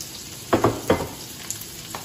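Onions frying in a pan while a beef quesadilla is prepared: a soft sizzle with a few close stirring scrapes in short bursts, fairly quiet and with no talk.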